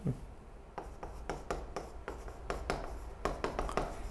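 Pen or pencil scratching across paper in short, repeated strokes, close and fairly quiet, with a steady rhythm of separate marks and no voices.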